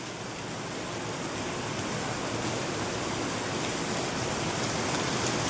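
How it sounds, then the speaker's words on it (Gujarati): Heavy rain pours steadily during a cricket outing, a dense, even hiss of falling water that stays loud and unbroken throughout with no voices. "આજે તો ફૂલ વરસાદ ચાલુ છે."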